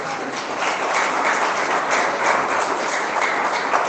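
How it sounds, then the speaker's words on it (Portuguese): A church congregation claps in a sustained, even wash of applause during a worship service, filling the space without speech. "dê mais um aplauso forte ao Senhor Jesus"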